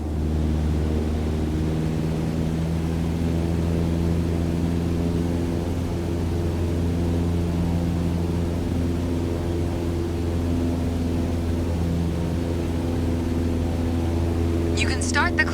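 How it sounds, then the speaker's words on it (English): Cessna 152 light single-engine aircraft at full power during a climb in Microsoft Flight Simulator, a steady, loud, constant engine drone with a fixed tone that holds throughout, and a brief faint higher sound near the end. "On the Cessna 152, you need full power to climb effectively."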